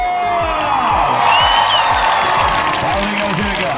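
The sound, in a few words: applause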